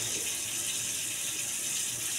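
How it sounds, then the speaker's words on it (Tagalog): Tap water runs steadily from a faucet in a continuous, even gush with no pauses, filling the clip alone without voices. "Agos ang gripo"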